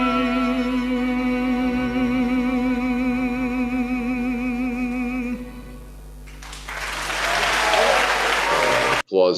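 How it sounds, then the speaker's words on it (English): Congregation applause at a Shabbat service, a burst of dense clapping rising after a stretch of sustained tonal sound, then cutting off abruptly near the end. "Applause for them"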